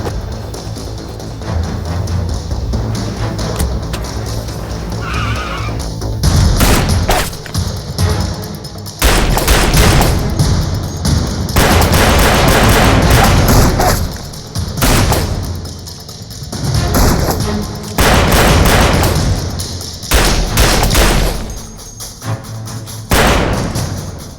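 Gunfire in a Hindi-dubbed Hollywood action movie: repeated loud gunshots, thuds and booming bursts arrive in clusters over a dense, continuous action soundtrack, with no clear talk.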